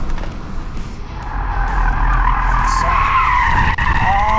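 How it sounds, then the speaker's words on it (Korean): Tires of a Kia EV6 electric car squeal loudly and continuously as it slides into oversteer on a test track, the screech building and wavering over several seconds. "이 오버스티어로 타이어의 접지력이 끝나는 이 지점에서 슬라이드가 아주 빠르게 전환되는 느낌이죠"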